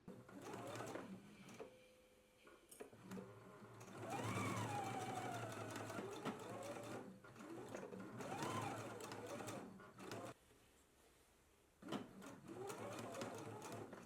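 Sewing machine stitching a sleeve placket: a steady whirring mechanical run with brief stops and restarts as the fabric is pivoted, close and moderately quiet, with a faint voice in the background.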